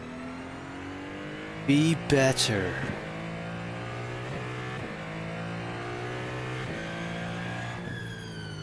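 A race car engine in a racing game at Spa revs through rising and falling gear pulls, harmonic whine climbing and dropping repeatedly, with a short burst of louder sound early and a voice speaking briefly over it.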